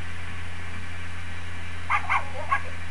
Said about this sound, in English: it's a dog looking for bones